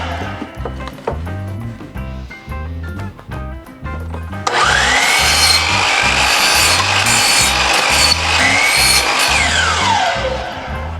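A saw cuts wood pieces for flower planters, two at a time against a stop block, with a rough, sustained rasping cut that starts partway through over a steady rhythmic beat.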